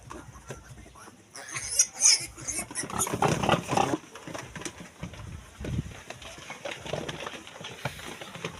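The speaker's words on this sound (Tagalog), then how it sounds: "Lagay mo natin dito kay kunin natin yung nanay. Si Mama Pig" Pigs on a farm grunting and snuffling in short irregular bursts at close range, with clattering and light rustling around them and a person speaking briefly.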